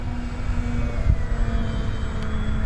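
A large FMS radio-controlled model airplane in flight throttles up, giving a steady, fairly loud motor and propeller drone with no talk over it.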